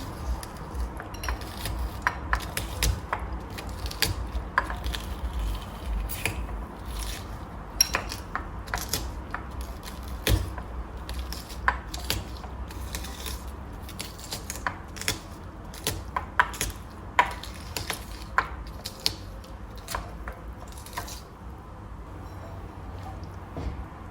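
Purslane being crushed with a plastic pounder for a salad, a long run of repeated dull thuds and light clacks against a bowl at an uneven rhythm, fairly close, with no talking.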